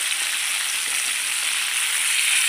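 Tilapia fish fries in hot oil with a steady, dense sizzle that is close and even throughout, with no talking over it.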